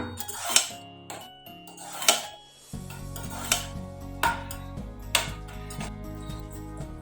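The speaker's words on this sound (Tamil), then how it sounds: "கசகசா சேர்த்து நல்லா வதக்கிக்கலாம்." Mutton keema with poppy seeds being sautéed in a pan for kothu kari, with repeated sharp clinks of a spoon against the pot over a low steady cooking hiss, up close and without talk.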